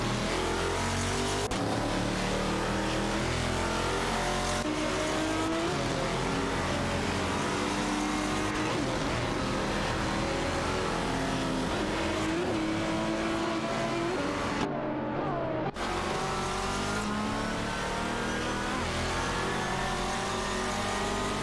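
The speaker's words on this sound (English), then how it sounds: "Suzanne Greenberg and Jessak 72 are driving Koenigsegg CCGT cars" Koenigsegg CCGT race cars roar continuously in an AI racing video game, with dense layered engine drones and revving and a brief drop in sound partway through.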